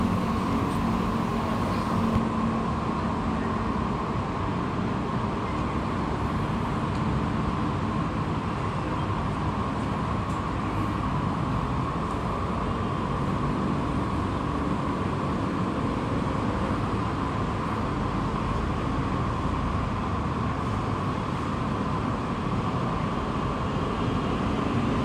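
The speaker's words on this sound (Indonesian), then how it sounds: "Wah, lihat keretaku sudah sampai." A train arriving at Manggarai station, a continuous loud rumble and steady hum of rolling railcars close by, with no talk over it.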